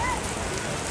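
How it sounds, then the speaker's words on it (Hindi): Hail comes down in Nainital as a short burst of dense, steady rattling patter, like heavy drops hitting a surface, with faint voices behind it. "ओले पड़ने लगे हैं, देखिए"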